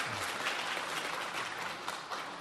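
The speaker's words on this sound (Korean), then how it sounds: "박수로 환영해 주시기 바랍니다." Applause fills a Korean Sunday church service as the congregation welcomes the visiting pastor and his wife, a soft, even patter of many hands heard at a distance without a break.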